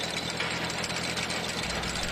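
Engine of a cone screw log splitter running steadily at close range, a loud continuous idling drone with a slight knocking texture and no pauses.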